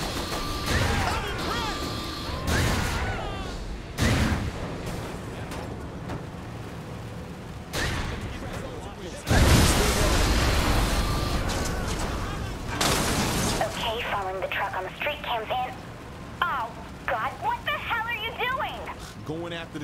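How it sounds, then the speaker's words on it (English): Tank cannon fire in Saints Row: The Third, heavy booming blasts and crashes going off in bursts over about twenty seconds, mixed with game sounds and people talking. "I said don't use the tank!"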